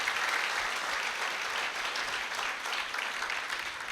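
A church congregation at Sunday Mass gives steady, even applause, a continuous wash of many hands clapping at a moderate distance with no speech over it.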